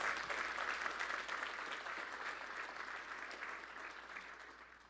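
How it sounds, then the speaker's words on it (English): An audience applauds at an industry forecast event, the clapping steady and fairly faint, fading slowly toward the end. "we deserve a freaking round of applause"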